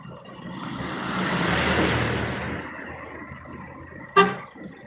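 A bus at a busy terminal with a fleet of around thirty buses: engine and traffic rumble swells and fades, then a sharp horn toot sounds near the end.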